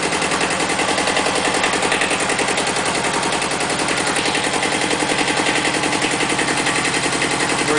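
A Kubota B7000 small diesel tractor engine runs steadily just after starting, a loud, close, rapid rattling chug with a fast even rhythm that never lets up.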